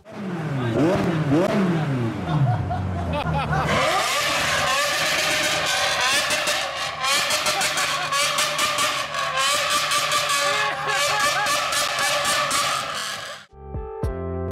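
A Toyota Century's 5.0-liter V12 engine revs and roars with a steady, smooth drone, rising in pitch as it accelerates, loud and close, ending abruptly.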